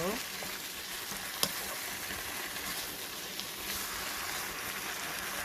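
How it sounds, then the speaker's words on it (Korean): Kimchi stir-fried in a pan sizzles steadily and fairly softly, with faint scraping from stirring and one sharp utensil tap, and no talking. "이렇게 김치를 볶고 있어요"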